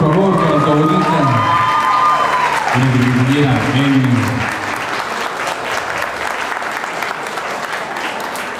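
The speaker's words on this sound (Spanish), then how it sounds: "fuerte, fuerte el aplauso, por favor, para su abuelita." Loud applause and cheering from a crowd at a quinceañera celebration, honoring the grandmother. Whoops and shouts ring out, with a singing voice and music over the first half before steady, dense clapping carries on alone.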